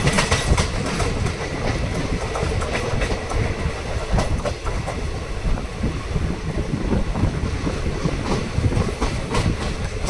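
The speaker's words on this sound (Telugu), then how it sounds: "ఫ్రంట్ వచ్చేసి ట్రైన్ బేతంచెర్ల నుంచి అయితే డిపార్చ్ అవుతుంది." A train pulls out of Betamcherla station on the Guntur–Guntakal line, with sustained loud rolling rumble, rhythmic wheel clatter on the rails and wind buffeting the microphone.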